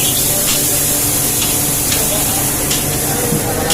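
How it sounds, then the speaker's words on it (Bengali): Shrimp frying in a pan for a mashed shrimp dish give a loud, steady, close sizzle with occasional faint spatters and clicks throughout. "হচ্ছে আমাদের চিংড়ি মাছ, এটা ভাজি করা হইতেছে"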